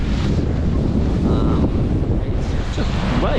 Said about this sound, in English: the wind has come up